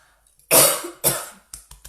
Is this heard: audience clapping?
no